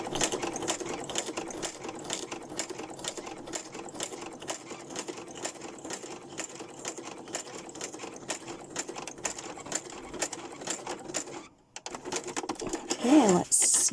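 A sewing machine runs steadily at close range, stitching straight across fabric to the edge and then backstitching. The even mechanical chatter continues for about eleven seconds before stopping, and faint handling noises follow.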